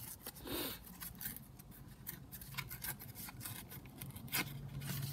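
Paper torn by hand for a junk journal page, a series of close, quiet rips and rustling crackles in short uneven bursts with no voices.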